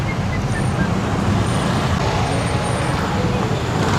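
Dense road traffic in the Philippines, heard from a motorcycle riding through it: a steady, loud rumble of cars, buses and trucks with engine drone and wind noise filling the whole stretch.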